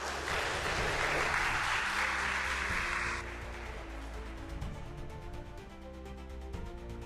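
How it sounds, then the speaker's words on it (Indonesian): A roomful of people at a ministerial address bursts into broad, steady applause for about three seconds, then it cuts off abruptly into a quieter background of tonal, humming room sound. "Tepuk tangan dong kalian sini."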